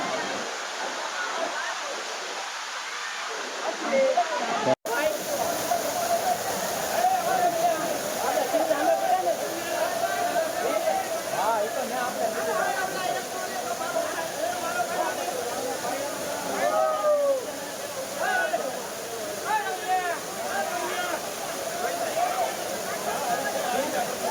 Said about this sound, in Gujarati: જો અહીંથી પાણી પડે છે, ધોધ પડે છે નીચે